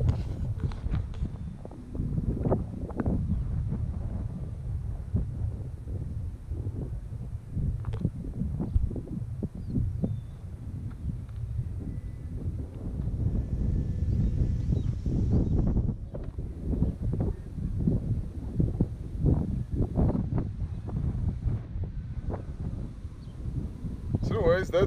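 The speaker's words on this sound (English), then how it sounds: "it's really windy" Strong wind blows across an open family farm in Texas, buffeting the microphone in a continuous, gusty low rumble that swells and dips throughout.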